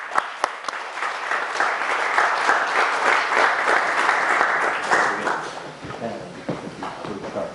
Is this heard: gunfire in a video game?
no